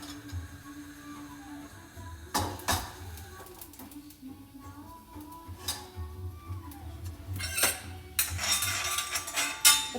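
Okra dropped into a pan of carom seeds (ajwain), with a few sharp clattering impacts and a burst of sizzling hiss toward the end over a low background hum.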